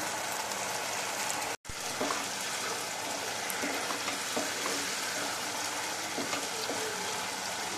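Dahi potol, pointed gourd in yogurt gravy, sizzling steadily in an uncovered pan while being gently stirred, with soft scraping strokes over a continuous close frying hiss and a brief dropout early on.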